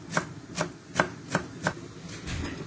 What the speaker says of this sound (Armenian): վերցրել եմ համեն, մաղադանոս և սամիտ, մանր կտրատում եմ